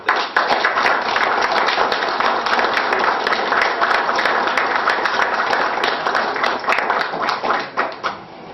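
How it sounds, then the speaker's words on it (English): Sustained round of applause from an audience honoring award recipients at a city chief's ceremony, many hands clapping densely and evenly for about eight seconds before tapering off at the end. "I'd like to give them a round of applause"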